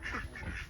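Ducks on a family homestead give a short nasal quack, close and fairly soft against low background noise.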